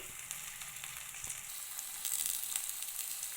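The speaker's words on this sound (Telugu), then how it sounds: "కొంచెం ఆయిల్లో ఫ్రై చేసుకోండి" Coriander leaves fry in a little oil for a vegetable rice dish, a soft steady sizzle with a light stir or two, quiet and close.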